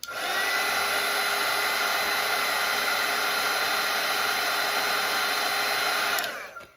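A hair dryer blows on wet watercolour paint on a Grinch wreath painting, a steady, loud, close whirring rush that holds for about six seconds and then cuts off abruptly.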